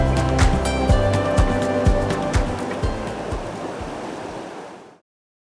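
A waterfall on Cadair Idris mountain rushes steadily, with wind buffeting against the mic in repeated thumps, before it suddenly cuts off.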